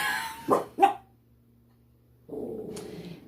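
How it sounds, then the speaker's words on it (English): Dogs bark at a trash truck outside, two sharp close barks and then a pause, followed by rumbling truck noise and one more distant bark. "they gotta let the trash truck guys know they're gonna eat them alive"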